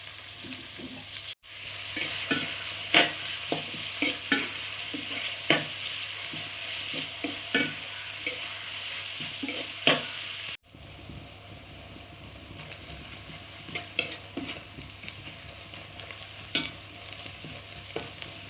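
Sliced onions frying in a pan for Kerala-style chicken curry, with a steady soft sizzle and repeated scraping strokes of a spoon stirring at an even rhythm, close and alone without talk.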